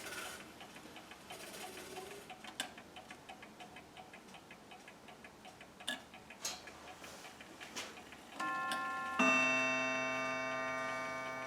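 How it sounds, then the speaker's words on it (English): A German mantel clock ticks quietly and evenly for several seconds, then a chime rings out near the end, its tone lingering and fading. "Just want to show you the lovely clock now that it's running."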